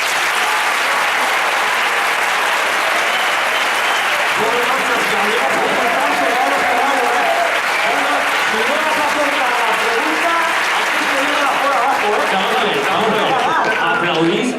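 Audience at a Christmas concert clapping loudly and continuously, dense sustained applause filling the space while a voice speaks over it.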